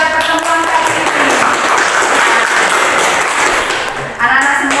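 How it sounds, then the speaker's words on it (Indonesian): A class of children clapping hands in an Indonesian classroom lesson, a steady dense patter of applause filling the room, with a voice over it briefly near the start and end. "tepuk tangan untuk pembelajaran kita pada pertemuan kali ini"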